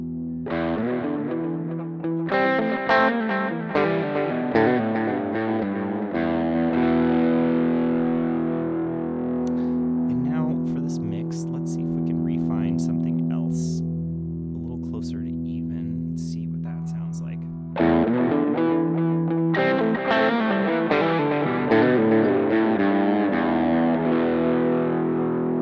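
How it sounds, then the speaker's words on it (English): An electric guitar runs through a Boss GX-10 with extra gain, giving a heavily distorted tone. Chords are strummed in bursts, then there is a sustained, wavering middle section, then more choppy riffing, loud and up close. "Distorted sound so that you could hear it more in the mix."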